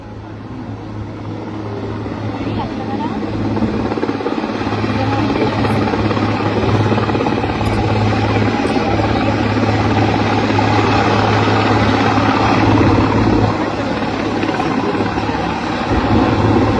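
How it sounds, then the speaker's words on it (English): A Sea King helicopter hovers close overhead at a naval review at RK Beach, Vizag, its loud steady rotor thrum and engine roar continuous throughout with no letup. "आप देख सकते हैं सीकिंग हेलीकॉप्टर अब असॉल्ट बोट से अपने कमांडोज को पुनः उतारने हेतु वापस आ गया है"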